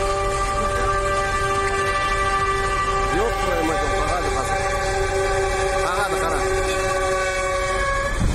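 A train's multi-tone horn blares in a long, steady blast, loud and close over a constant rumble of rail traffic, with brief wavering cries heard partway through.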